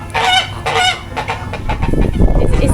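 A goose on a dairy farm, guarding its nest, gives several loud, close, nasal honks in quick succession, followed by softer rustling and low grunting.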